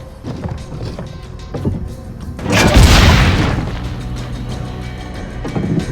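A cannon fires in the Assassin's Creed Brotherhood video game: a single heavy boom with a rumbling tail that fades over a couple of seconds, amid quieter ambient game sounds.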